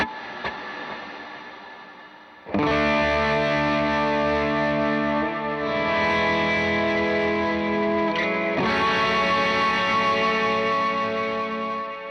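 Electric guitar chords ring out thick and wet with effects, sustained and layered, after a quieter opening; distorted, chorused tone with lingering reverb.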